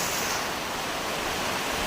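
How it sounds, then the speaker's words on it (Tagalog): Heavy rain pours down on a tree-filled area as a steady, dense, unbroken hiss. It stays loud and even throughout, with no voices. "sobrang medyo malakas na yung ulan dito"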